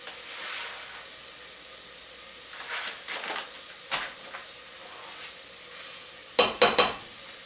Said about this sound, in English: we're going to keep it at that medium-high heat and toast it for a few minutes